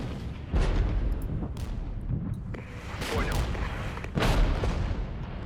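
Enemy mortar fire in the wartime strategy game Regiments sounds as repeated heavy booms and rumbling blasts, some distant and some closer, over a constant low battlefield roar.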